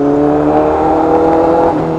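A reflashed Honda CBR1000RR-R Fireblade SP motorcycle engine holds a loud, sustained high rev for about two seconds, the pitch easing slightly near the end.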